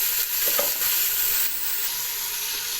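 Bacon sizzles in a hot pan with olive oil, a steady, close crackling hiss that carries on without pause and with no voices.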